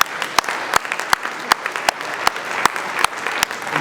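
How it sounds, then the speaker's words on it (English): Warm round of applause from a room audience at a classic car auction, greeting the £71,000 sale of a 1966 Costin Nathan works prototype; dense steady clapping with sharp individual claps standing out, fairly close. "A very warm and generous round of applause from everybody in the room."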